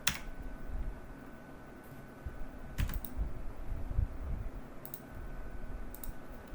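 Keys clatter steadily on a computer keyboard as an Excel formula is entered, a quiet, close run of irregular clicks with a few sharper taps.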